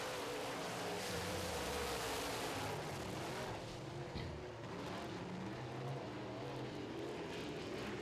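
Modified race cars roar around a track during a heat race, their engines droning steadily at a distance in a continuous, fairly faint blur of sound that rises and falls slightly as they pass.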